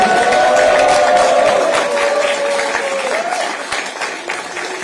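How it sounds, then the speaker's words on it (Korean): Large hall crowd applauding at a Korean political party event welcoming the party leader and candidate Kim Boo-kyum, steady loud clapping across the whole stretch with a sustained tone running beneath it, fading slightly toward the end. "다시 한 번 더 뜨거운 박수 부탁드립니다"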